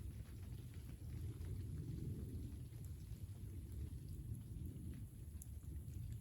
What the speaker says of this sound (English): And it's starting to sprinkle again.